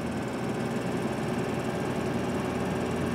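A tractor engine in Farming Simulator 2013 drones steadily and loudly, a constant mechanical hum with rattling vibration and no pauses.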